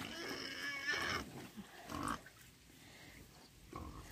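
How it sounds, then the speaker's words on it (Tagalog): A pig on a farm grunts and oinks in a few separate bursts, with a higher squealing stretch near the start, fairly close and with no talking. "sakto na sa sukat yung baboy namin ni Ayos"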